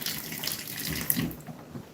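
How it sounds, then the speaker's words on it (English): Water runs steadily from opened household tap fixtures as air is purged from the lines after a drained system, a continuous hissing rush with sputtering bursts, close by and alone. "So I gotta turn all the fixtures on, get all the air out of the lines"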